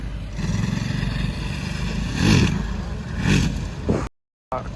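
A Ducati Desert X motorcycle ridden on a dirt track gives a steady engine drone with two rising revs, then cuts out briefly before resuming.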